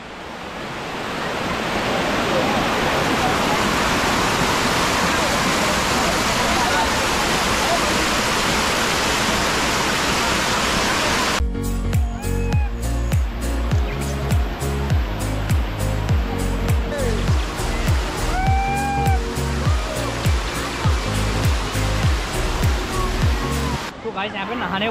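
Steady roar of Amritpur waterfall near Haldwani, loud and close, a continuous broadband rush of falling water that persists throughout, with a brief chirp or voice-like sound heard over it midway.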